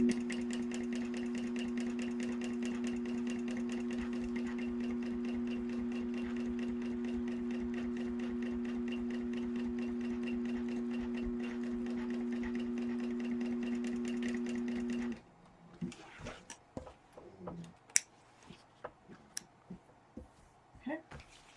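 A sewing machine topstitches fabric for a candy bag, its steady motor whir running close and continuous for about fifteen seconds before stopping, followed by scattered handling clicks and rustles.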